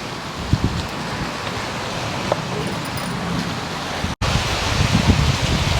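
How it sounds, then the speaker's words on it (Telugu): Rain begins falling outdoors, making a steady, dense hiss that fills the whole stretch with a few soft taps and a brief drop-out near the end. "వర్షం స్టార్ట్ అయింది."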